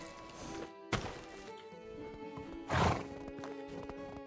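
A horse in the medieval survival game Medieval Dynasty whinnies loudly twice amid a few hoof clops and thuds, close and clear over a quiet background.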